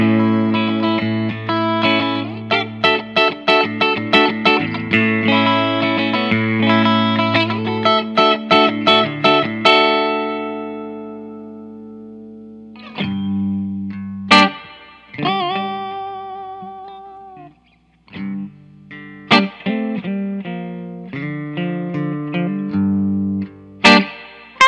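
Electric guitar in the middle pickup position with both bridge and neck humbuckers on, played with a clean tone through effects: strummed chords and single notes, upfront and alone, ringing with chorus-like shimmer and some reverb.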